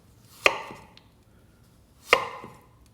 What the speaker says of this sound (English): sharp knife, thin slices